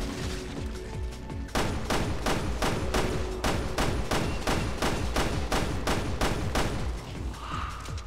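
Gunfire from the Resident Evil Revelations 2 video game in Raid Mode, a loud, steady rapid series of shots repeating at an even rhythm for several seconds.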